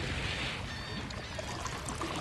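Water tipped out over the rim of a container, a steady splashing pour that runs continuously for a couple of seconds, fairly loud and close with no voices.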